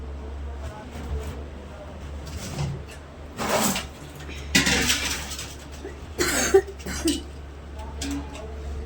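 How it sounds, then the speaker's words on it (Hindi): Several bursts of harsh coughing from a person at home, coming in separate fits spread across the stretch with quieter gaps and a steady low hum underneath. "खांसी हुई है बहुत तेज है।"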